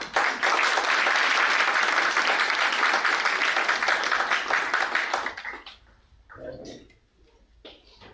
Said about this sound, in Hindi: आपकी तालियों से पता लग रहा है।